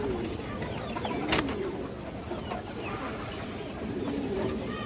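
Domestic pigeons coo softly in a loft, low repeated calls over a busy background with a brief sharper noise near the middle.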